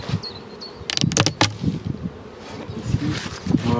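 Honeybees buzz in a steady, close drone at an opened beehive in May, with a few sharp knocks and handling noises in the first half.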